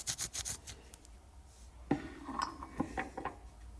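Motorcycle brake pads being rubbed clean of dust and product residue, with quiet scraping and rasping strokes and a few light clinks, close and faint.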